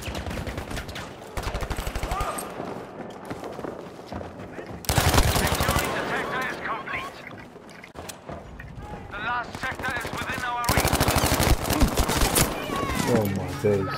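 Rapid automatic gunfire bursts in the shooter game Battlefield V, loud close volleys of a fast-firing weapon repeating across the scene between brief pauses, with excited talk over the shooting.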